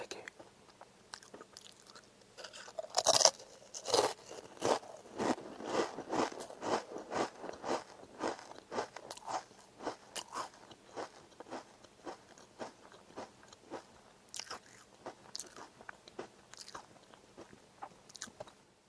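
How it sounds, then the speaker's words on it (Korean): Potato-flavored snack crisps crunched three at a time, close up: a dense run of sharp bites and crackling chews, loud at first and then settling into a steady, irregular munching rhythm. "힌트를 드리자면 감자맛 과자입니다"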